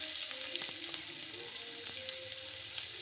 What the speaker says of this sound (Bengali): আলু সিদ্ধকে ফ্রাই করে দিচ্ছি